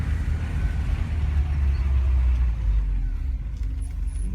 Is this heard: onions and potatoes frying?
no